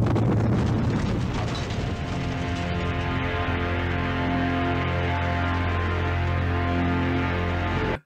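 A truck blows up in the film Battletruck, a loud sustained roaring explosion with rumbling low end that fills the scene for several seconds before cutting out abruptly.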